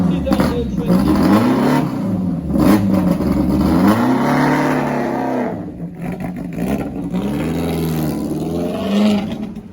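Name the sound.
2022 Bugatti car engine revving as it drives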